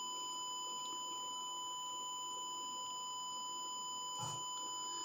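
A continuous 1 kHz test tone holds steadily, a pure, faint, unbroken beep that briefly glitches near the end as it switches from the left to the right channel.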